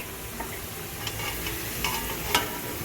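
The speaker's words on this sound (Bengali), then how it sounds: "আমি আলুটা প্রথমে ফ্রাই করে নিচ্ছি।" Potatoes frying in hot oil make a dense, steady sizzle with a few faint stirring clicks, close and moderately quiet, with no talking.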